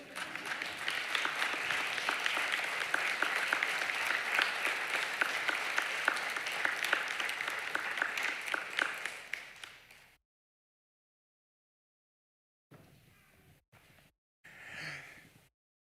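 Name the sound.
audience applause at white coat ceremony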